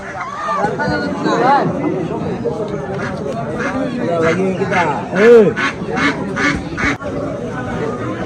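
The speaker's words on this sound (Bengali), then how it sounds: "আজকে চলে আসলাম হাঁস মুরগির বাজারে সব দেশি" Ducks quack and honk amid a busy poultry market crowd selling local ducks and chickens, with people talking loudly nearby throughout.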